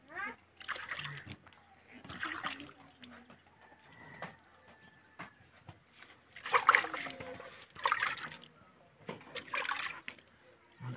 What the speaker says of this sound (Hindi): पानी वो डोल ते दिया दूसरी बाल्टी